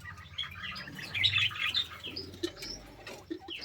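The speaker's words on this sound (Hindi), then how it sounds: "कुछ कबूतर भी हैं।" Pigeons kept among pet birds coo and flutter nearby, with soft wing flaps and scattered chirps from other small birds in the background.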